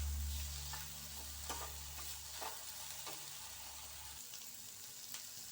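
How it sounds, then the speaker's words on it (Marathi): Chopped capsicum stir-frying in a pan for Hakka noodles, a quiet steady sizzle with soft stirring scrapes and a low hum that cuts out partway through, with no talk. "आता आपण ढोबळी मिरची चिरलेली ती टाकूया। ती पण छान परतून घ्यायची आहे।"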